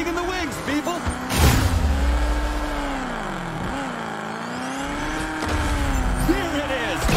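A hero vehicle roars onto the arena in the PS5 car combat game Destruction AllStars, its engine loud and close with rising and falling revs, heavy impacts and game effects mixed in.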